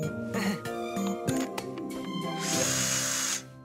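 A power drill whirs in short bursts, then runs steadily with a rising, higher-pitched whine near the end.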